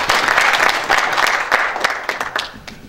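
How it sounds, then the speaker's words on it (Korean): Audience applause at a debate session: a room full of people claps steadily for a few seconds, close and fairly loud, fading slightly toward the end. "박수 한번 크게 부탁드립니다."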